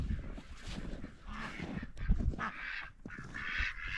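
Ducks on a small home farm quack and honk in a loose, overlapping flock, the calls close and fairly steady over a few seconds with no talking.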